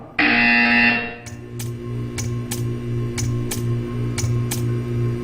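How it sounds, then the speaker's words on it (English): A loud electronic buzzer blares in Portal 2, a sustained harsh tone lasting about a second, followed by a steady low hum with a string of sharp regular ticks or clicks. "You will hear a buzzer."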